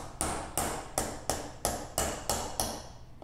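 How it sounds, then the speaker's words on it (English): Sharp chisel tapped lightly with a hammer to break a gasket seal on a Cyclo gearbox housing, eight evenly spaced metallic taps in a steady rhythm, close and fairly faint. "Using a light tap with a good sharp chisel, we'll break the gasket seal free."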